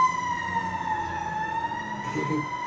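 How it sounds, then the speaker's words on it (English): A fire truck siren wails steadily at close range, its tone sliding slowly, with faint traffic rumble underneath. "And that's a fire truck."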